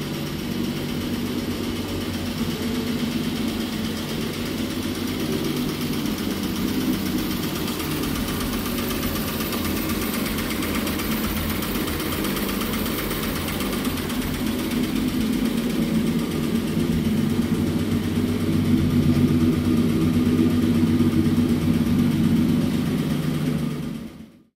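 A Triumph Spitfire 6 engine runs steadily at a fast idle, a continuous close rumble with a faint knocking character, holding an even level for the whole stretch before cutting off at the end.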